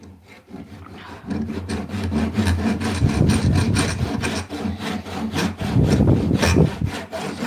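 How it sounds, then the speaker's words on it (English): Hand chisel work on wood while making a whirligig gives steady scraping and rasping strokes, close and fairly loud, continuing rhythmically for several seconds. "Then some more chisel work, and then we can glue blades in."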